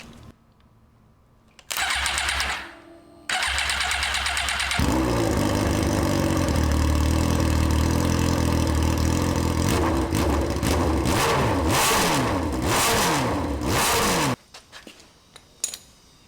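A 2012 Suzuki GSXR 1000 is started by jumping its starter terminals: a brief whir of cranking, a pause, then the engine catches and idles loudly with sharp revs before cutting off.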